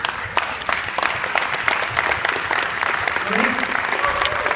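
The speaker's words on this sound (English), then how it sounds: "Let's give her a round of applause." A crowd at a documentary screening claps steadily and loudly throughout, with dense applause filling the whole stretch.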